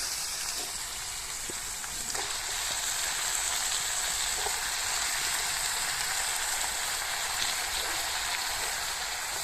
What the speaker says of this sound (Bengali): এই যে পুঁই ভালোভাবে আমি ধুয়ে নিচ্ছি কেটে।